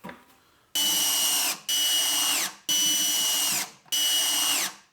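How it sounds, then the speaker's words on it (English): Power drill driving screws into the bottom of a plastic bucket for a chicken and duck feeder: four loud, close bursts of high whining motor, each winding down in pitch as the screw seats, with brief gaps between them. "you can see I put 4 screws in there just to hold it in place"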